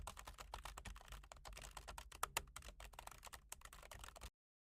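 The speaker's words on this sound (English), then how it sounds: "Let me type it and then explain it for you guys." Rapid, uneven clicking of keys on a computer keyboard, quiet and close, running for about four seconds before falling silent.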